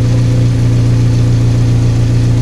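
Volkswagen Gol Quadrado with a CHT 1.6 engine idling through a holed exhaust: a steady, loud, deep throb with an even pulsing rhythm, close by and alone.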